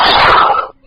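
A single loud, close sneeze bursts out during a podcast recording and cuts off abruptly, followed by near silence.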